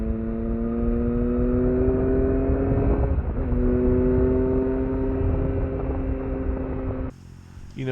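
A Triumph Tiger motorcycle is ridden with a steady, droning engine note that climbs slowly in pitch, loud and close with wind rush, before cutting off abruptly near the end.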